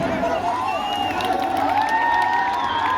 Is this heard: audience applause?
yes